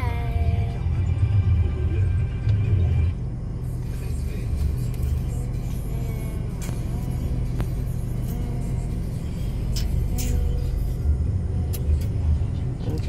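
A construction machine drives past at a site, its engine a loud, steady low rumble that dips slightly partway through, with faint voices in the background.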